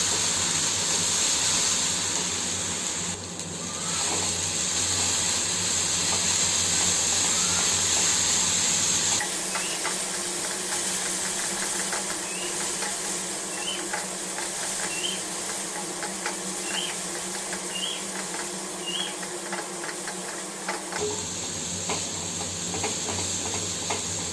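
Ginger-garlic paste fries in a pan while being stirred, a continuous sizzle overlaid with repeated light scraping ticks, the tone shifting partway through and then settling back, with no one talking.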